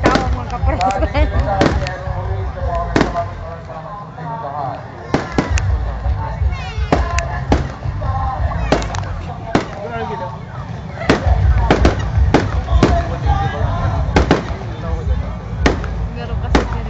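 Fireworks crackle and pop repeatedly with sharp bangs at irregular intervals, over a steady background din and voices talking nearby.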